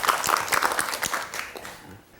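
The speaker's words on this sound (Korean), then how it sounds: "박수 부탁드립니다" Studio audience claps at a televised storytelling program, a short scattered burst of applause that is moderately loud and tapers off within about two seconds.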